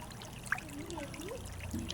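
Clear water flowing along a rocky waterfall stream near Bangkok, a faint, steady trickle and gurgle with small splashes, heard on its own without talk.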